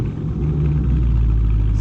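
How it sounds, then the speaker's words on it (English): A 2019 Dodge Charger Scat Pack with a muffler delete idles with a deep, steady, loud exhaust rumble, heard close and continuous with no voices. "this car has a muffler delete and it sounds glorious"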